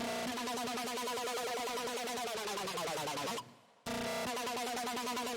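A Crazy Wob synth preset from the Doomsday Serum bank plays a busy, chaotic wobbling sequence with rapid pulsing modulation, then a downward pitch sweep, a half-second cut to silence, and the loud sequence resuming.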